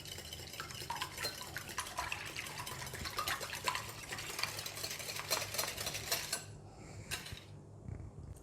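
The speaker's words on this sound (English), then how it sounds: "whisk the egg until well combined" Eggs seasoned with salt and pepper are whisked in a bowl for an omelette, a quick, steady run of light clinking and sloshing strokes that thins out near the end.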